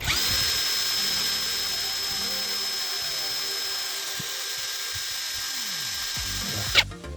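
A 16.8 V cordless drill runs at maximum speed on its first gear setting, a steady close high-pitched motor whine holding for about seven seconds before cutting off with a click.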